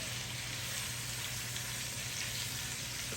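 Chicken pieces sear face down in a hot pan on high heat, giving a steady, dense sizzle and crackle that holds evenly close by with no talking.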